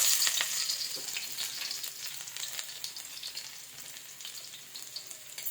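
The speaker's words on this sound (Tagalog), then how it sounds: "Gisa na tayo, magisa." Steady, close sizzling of food being sautéed in a pan, with faint stirring scrapes throughout and no talking.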